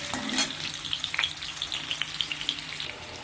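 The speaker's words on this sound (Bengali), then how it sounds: "আলুটা ভেজে নেব।" Potatoes fry in a pan, the sizzle running steadily for several seconds close by, with little pops and stirring clicks scattered through it and no voices.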